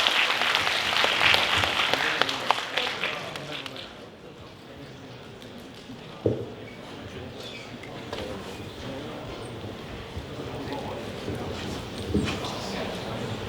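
Crowd applause at a company evening show greeting a singer about to perform, a dense burst of clapping that fades after a few seconds, with voices carrying on underneath.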